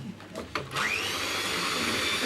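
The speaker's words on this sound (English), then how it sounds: "I've got 3 egg whites and I'm going to whisk them up with my whisk" Three egg whites whisked by hand with a balloon whisk in a bowl, a steady fast whirring scrape that builds after a few soft opening taps and continues evenly, close and fairly quiet.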